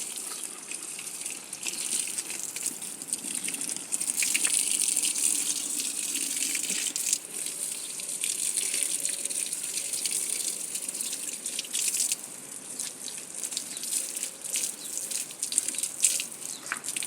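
Steady spray of water hissing onto garden plants, continuous and fairly close, with slight surges in flow and no talking over it.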